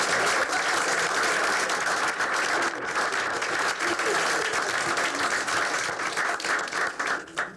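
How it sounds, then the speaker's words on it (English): Sustained applause from a large audience at a school board meeting, a dense, even roar of clapping that continues throughout and tapers slightly at the end. "another round of applause for these ladies"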